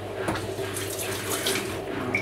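A fountain pen is rinsed clean of ink under a running tap, with a steady, fairly quiet stream of water splashing in a sink and faint clinks throughout.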